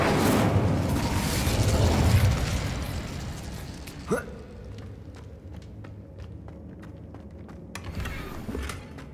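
An Incendio fire spell is cast in Hogwarts Legacy: a loud whooshing burst of flame that roars for about two seconds and fades into a crackling tail, followed by a sharp pop and lighter clicks and footsteps.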